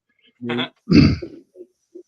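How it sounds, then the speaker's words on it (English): A person with a tickle in the throat lets out a short voiced grunt, then a harsher throat-clearing cough followed by a few fading little rasps, close and alone without talking. "I'm gonna cough. Hold on. I have a little tickle tonight."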